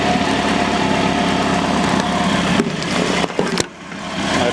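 A motorcycle engine runs steadily, loud and close, with a buzzy idle. It stumbles and cuts out briefly near the end, then picks back up.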